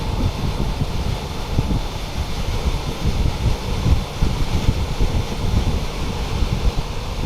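A strong roadside crosswind buffets the microphone with steady, low, roaring rumble and gusty fluctuations throughout, with no voices present.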